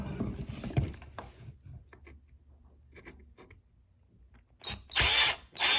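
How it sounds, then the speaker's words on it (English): A power screwdriver whirs in a short, loud burst near the end while working stubborn screws, after quiet handling and faint clicks from tools and parts. "Pulling out the big guns, because these screws are not budging"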